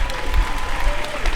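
A graduation ceremony audience applauds teachers and administrative staff, steady dense clapping filling a large hall for a short burst, loud and continuous with no voices on top.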